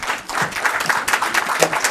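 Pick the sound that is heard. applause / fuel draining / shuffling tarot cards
applause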